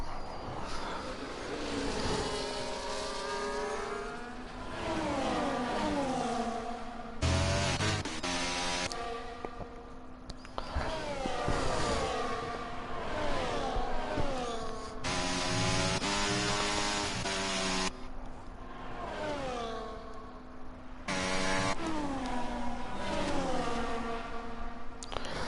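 F1 cars from the F1 24 video game race through the Hungary Grand Prix, their high-pitched engines screaming and sweeping up and down through gear changes as several cars pass one after another, loud and continuous.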